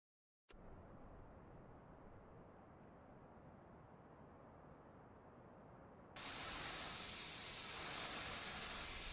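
An air blower cleaning farm machinery in Farming Simulator 25, a steady hiss that starts after a click and then jumps to a louder, brighter rush of air for the last few seconds, with no talking.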